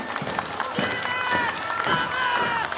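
Crowd at the Carnaval Ayacuchano 2020 claps for the Tambo la Mar comparsa, a steady rhythmic patter of palms with scattered voices mixed in, moderately loud and continuous throughout.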